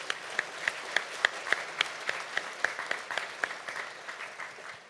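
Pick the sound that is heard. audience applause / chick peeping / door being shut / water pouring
audience applause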